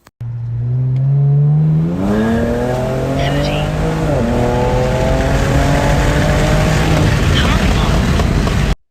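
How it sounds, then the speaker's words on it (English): A Genesis G70 3.3 twin-turbo with an added intercooler pulls hard from low speed, its engine note climbing steadily through the gears while the tires briefly squeal from wheel spin, loud and close throughout. "you'll actually hear a little bit of wheel spin at 25 miles per hour"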